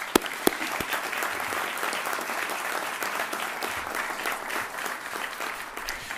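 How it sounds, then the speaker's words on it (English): An audience at a university commencement ceremony applauds steadily, a dense wash of many hands clapping at a moderate distance, sustained evenly throughout. "join us in a round of applause for your families"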